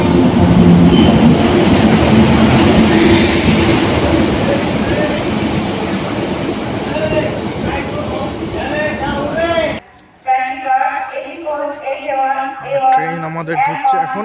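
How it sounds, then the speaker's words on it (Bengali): Gangasagar Express train pulling into a station: a loud, rolling rumble dominates, then gives way to a quieter platform where voices and an announcement are heard. "এদিকে গঙ্গাসাগর এক্সপ্রেস ঢুকছে, এটা ঢুকছে গঙ্গাসাগর এক্সপ্রেস"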